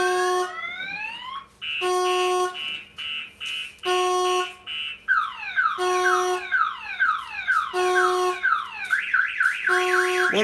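Car alarm going off on a freshly garaged car, cycling loudly through repeated tone patterns: steady beeps, falling chirps and rapid rising sweeps, close by and uninterrupted by talk.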